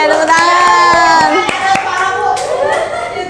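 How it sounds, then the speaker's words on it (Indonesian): Classroom applause from children during a microteaching lesson: a burst of hand clapping over a murmur of young voices, lasting a few seconds, close and fairly loud. "tepuk tangan"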